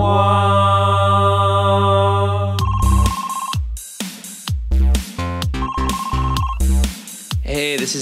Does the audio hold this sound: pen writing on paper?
no